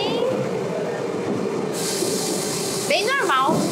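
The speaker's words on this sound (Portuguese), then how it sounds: "Ó como que é o trem." A Paris metro train arriving at a station: a steady loud rolling rumble and hiss of the carriages, ending in a cluster of high squealing brake tones as the train slows, with station noise throughout.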